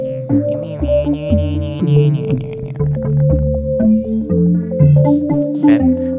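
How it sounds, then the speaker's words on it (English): Arpeggiated synth patch from Pigments with a free-running LFO sweeping the filter cutoff, rapid stepping notes over a bass line, loud, continuous and electronic with no voices. "It's more of an arpeggiator"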